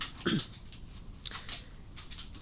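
A dog barks in a few sharp, separate bursts at close range, with short whimpery yips between them and no talk over it.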